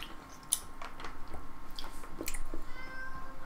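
A cat meows a few times at close range over a faint background hum, with soft rustling and clicking sounds in between.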